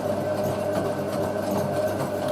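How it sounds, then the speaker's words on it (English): A Hotpoint 9530 Electronic 1000 Plus washing machine runs its third rinse, giving a steady mechanical hum with a constant motor whine at a moderate level and no talk. "Third rinse. That's the third rinse."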